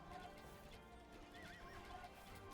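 Cavalry in Age of Empires II, light horse archers, gives a faint horse whinny over the clip-clop of hooves, quiet game audio with no talking.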